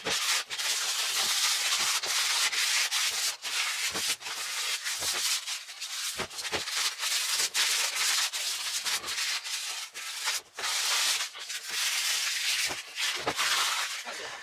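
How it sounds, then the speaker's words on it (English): Close, continuous hand scuffing of a 1968 Pontiac GTO bakelite steering wheel, with rapid rasping rub strokes broken by brief pauses and no speech. "I'm just trying to just get a little bit of a scuff to everything, so when I do paint it or dip it or whatever I decide to do, that it sticks."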